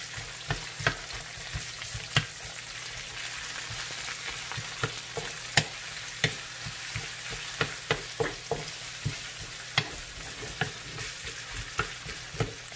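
Ginger sautés in a pan for Filipino mung bean soup, with steady sizzling broken by repeated sharp scraping clicks of stirring at an irregular rhythm, close and fairly loud, with no voices.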